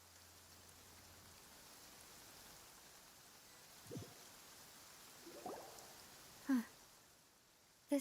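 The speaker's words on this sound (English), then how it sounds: "It's been raining non-stop for..." Steady, soft rainfall in the Genshin Impact game world, a quiet even patter throughout, with a few faint scattered sounds and sharper clicks rising briefly near the end.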